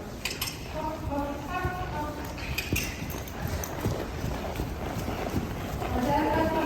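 A horse's hooves clop at a walk on an outdoor riding lesson, a rhythmic near steady beat under a woman's instructions, with occasional metallic jingling of tack.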